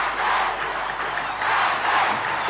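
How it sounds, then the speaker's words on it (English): A large arena crowd at a 1996 WWF wrestling event in Kuwait City chants in two swelling rhythmic waves, a dense, loud roar of many voices. "Hear the crowd chanting, Ahmed, Ahmed."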